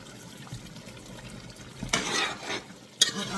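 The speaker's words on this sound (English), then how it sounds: "I put it on low heat because it's kind of almost burning at the bottom. So my egusi is forming." Egusi fries in a pot over low heat, a quiet steady sizzle with a few louder scraping stirs toward the end.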